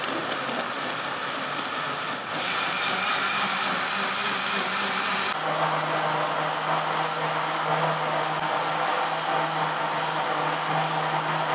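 An electric kitchen grinder whirs steadily as it blends mint lemonade with chilled water, a loud continuous motor drone that deepens in pitch partway through and runs without pause.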